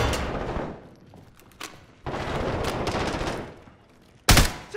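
Bursts of gunfire in Call of Duty: Modern Warfare multiplayer beta on the Hackney Yard map, a Domination match, with a sustained rattling volley in the middle and a sharp loud shot near the end, no talk.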